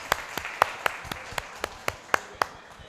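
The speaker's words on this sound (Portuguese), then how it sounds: "Salva de palmas." Audience at a business talk on data and personalization claps, though only about a dozen distinct, evenly spaced hand claps ring out, sharp and moderately close over low background noise.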